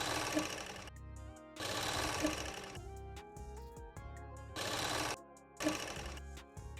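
A sewing machine stitches the bottom hem of a baby girl's winter plazo pants, running in four bursts of fast, even stitching separated by short pauses, close and clear with no talk.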